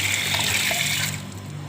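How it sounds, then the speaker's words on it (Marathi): Water from a kitchen tap runs steadily over a knife as it is rinsed, a close, continuous gushing stream that eases slightly toward the end, with no talk. "चाकू पण धुवून घेतोय पाण्याने"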